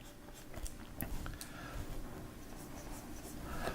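Pen scratching across paper in short, scratchy strokes while a nose diagram with a central seam is sketched, close and fairly quiet with a few sharper ticks.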